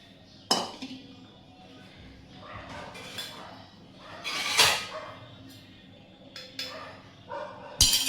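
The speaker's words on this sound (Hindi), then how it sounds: "हमारे यहाँ कुत्तों की पता नहीं कौन सी ज़्यादा बढ़ती है, इतना शोर करते हैं सुबह रात को, भैं भैं भैं भैं भैं" Dogs barking near a Hindi-speaking household, with several sharp bursts spread across the clip, mixed with clinking of kitchen dishes and pots.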